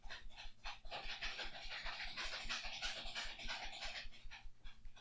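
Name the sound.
dog panting and shuffling in plastic cage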